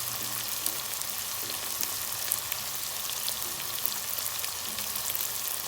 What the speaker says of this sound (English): So allow this to saute.